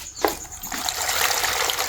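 Water runs and trickles steadily into a container beside a washing machine after a laundry cycle, a continuous splashing flow close by with no voices.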